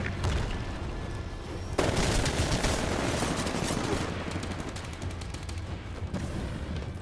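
SMG gunfire in Titanfall's colony campaign battle, a dense, rapid stream of automatic shots that stays loud and continuous for the whole stretch, with a sharp onset partway in.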